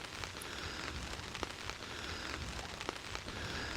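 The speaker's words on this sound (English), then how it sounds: "It's raining again. It's pitter-pattering on this tarp." Rain patters steadily on a camping tarp overhead, a dense close hiss dotted with sharper individual drop taps, with no talking.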